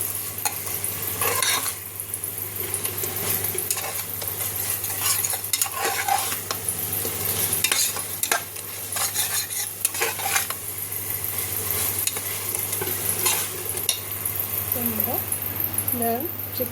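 Mint, coriander and salt sautéing in a pan for chicken biryani, with a continuous sizzle under repeated stirring and clinks of a spoon against the pan, plus a voice talking at moments.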